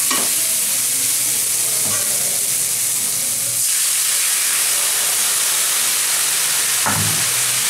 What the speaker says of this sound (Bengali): এটা খুব বেশি ভাজবো না জাস্ট একটু নাড়াচাড়া দিয়ে তরকারিটাকে দিয়ে দেবো